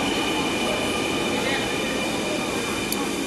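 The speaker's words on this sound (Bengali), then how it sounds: "অ্যান্ড ফাইনালি ট্রেনটি এসে থেমেছে" A Dhaka metro rail train pulls in with a steady, loud mechanical roar and rail hiss that stays unbroken throughout, heard from close range.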